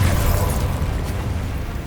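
A fire spell cast in Hogwarts Legacy, a continuous roaring whoosh of flame with heavy low rumble, loud and steady throughout without a clear start or end.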